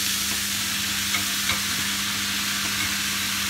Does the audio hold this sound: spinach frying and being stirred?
yes